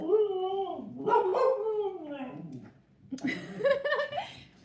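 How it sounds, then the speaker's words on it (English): A singing dog howls in long wavering, rising and falling tones, pausing briefly before a second stretch of howling, heard close with some light laughter mixed in. "my singing dog"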